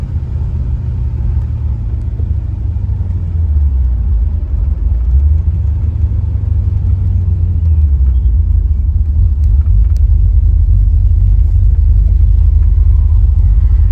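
A 1978 Pontiac Firebird Trans Am rumbles along while driving, its V8 giving a loud, steady low drone that rises and falls gently with the throttle, heard from inside the car with no talking.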